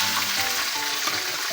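Two pieces of fish frying in cooking oil, a steady dense sizzle with crackling pops running throughout, close and fairly loud with no talking.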